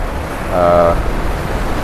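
Strong sea waves pound a seaside bungalow, a steady roaring wash that swells midway, with wind buffeting the microphone throughout.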